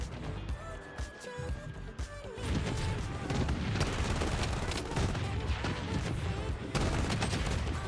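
Gunfire in the video game Bloodstrike, a dense, continuous stretch of rapid shots and blasts that grows louder partway through and stays busy and close to the end.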